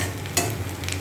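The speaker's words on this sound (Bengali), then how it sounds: "পেঁয়াজটা একটু ভাজা হয়ে এলে এই মশলাটা দিয়ে দেবো।" Chopped onion frying in a pan for a non-vegetarian curry, with a steady close sizzle and a brief scrape of stirring partway through.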